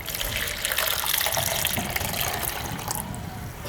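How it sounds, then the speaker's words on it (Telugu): Water pours steadily into a mug, a close, continuous gushing splash. "కొంత భాగానికి నీళ్ళు పోయాలి"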